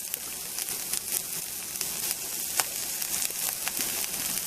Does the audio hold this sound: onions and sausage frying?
yes